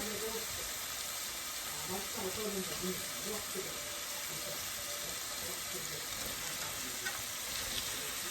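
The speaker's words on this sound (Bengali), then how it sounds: "এখানে আমি ডিমের জন্য মশলাটা একটু কষায় নিচ্ছি" A spice paste for eggs sautéing in a pan, a loud dense sizzle filling the whole stretch with soft stirring scrapes and a voice speaking beneath it.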